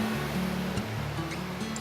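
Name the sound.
whitewater rapids on the Cedar River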